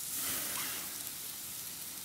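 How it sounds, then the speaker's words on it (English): Pork satay sizzles on a hot grill, a faint, steady crackling hiss that runs unbroken for a couple of seconds. "Music to my ears, sizzle."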